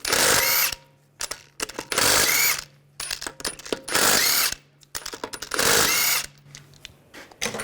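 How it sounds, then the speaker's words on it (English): Power impact wrench with a 17mm socket spinning lug bolts off a Volkswagen Tiguan front wheel, several loud separate bursts of whirring and rattling hammering separated by short quiet gaps. "Using a 17mm socket, we're going to take these lug bolts off."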